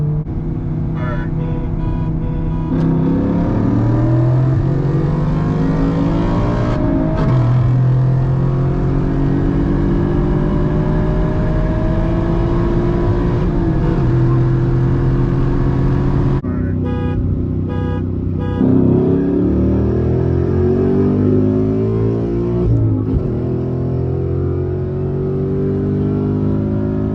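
A VW Golf R DSG and a manual Mustang GT accelerating hard from a 40 mph roll, steady loud engine drone inside the cabin with rising, shifting engine tones and gear changes over nearly half a minute, with voices talking over it.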